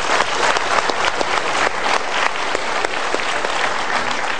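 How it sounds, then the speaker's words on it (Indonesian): A seminar audience at a Mario Teguh motivational talk breaks into steady, full applause, a dense wash of many hands clapping throughout with no pauses. "tepuk tangan yuk"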